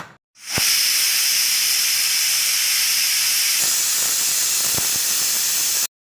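Loud, steady hiss of a pressure cooker venting steam while cooking ivy gourd curry, continuous for several seconds, with a few faint clicks partway through.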